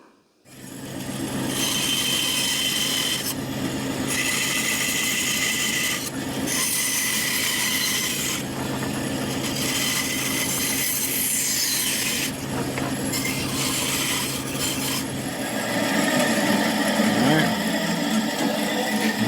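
A notch for a mini vise French cleat is cut into wood by hand with a saw, giving a steady, loud rasping stroke repeated in a continuous rhythm for about fifteen seconds, close up and without speech.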